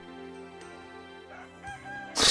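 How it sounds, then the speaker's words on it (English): Rooster crowing in the video game Tengai Makyō II: Manji Maru, a short synthesized cock-a-doodle-doo over a sustained tonal music bed, ending with a louder bright burst. "Does a chicken make a chicken noise?"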